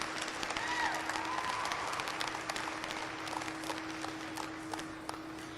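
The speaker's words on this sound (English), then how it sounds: "One more round of applause for everyone standing in the ring" A crowd in the stands at a county fair sheep show claps for the contestants standing in the ring, a soft, spread-out patter over a steady electrical hum, with a faint whistle or call near the start, fading gradually.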